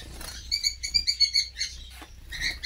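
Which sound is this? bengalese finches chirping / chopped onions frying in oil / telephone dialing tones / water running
bengalese finches chirping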